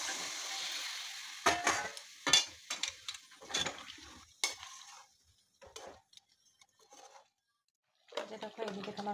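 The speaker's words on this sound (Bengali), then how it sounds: "আর এখানে জল গরম করতে রেখেছিলাম সেইটা একটু ঢেলে দিচ্ছি" Hot water is poured into browned desi chicken curry frying in a pan, giving scattered bursts of sizzle and utensil clatter, a quiet lull, then a louder, steady hiss at the end.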